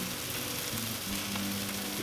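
Jerk Caribbean-style chicken wings sizzling over direct heat on a Char-Griller charcoal grill, a close steady crackling hiss with a faint low hum beneath.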